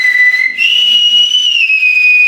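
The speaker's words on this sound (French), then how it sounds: "sifflait Benoît 3 notes en mineur de sa fenêtre, et là, on l'entendait de derrière chez nous" A person whistles a short tune of three clear, sustained notes in a minor key, each held and gliding into the next, loud and close with no talking.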